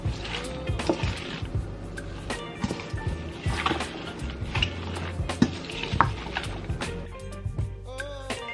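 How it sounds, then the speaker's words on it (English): Tahini Mediterranean salad ingredients stirred and tossed together in a bowl, a steady run of close, soft wet scraping and clinking strokes with no talking. "I'm just going to go ahead and mix everything together."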